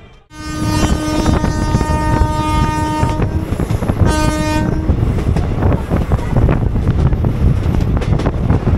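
Paharia Express train 15722 runs after leaving Tamluk, heard as a loud roar with heavy wind buffeting and a strong horn blast sounding twice, the second briefer, over constant rumbling.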